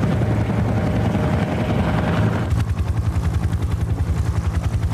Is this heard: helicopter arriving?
yes